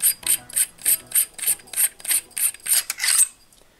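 Battery compartment of an XM-55 shotgun microphone being unscrewed, about a dozen quick rhythmic ratcheting scrapes of threads turning, close and crisp, ending in a short rub.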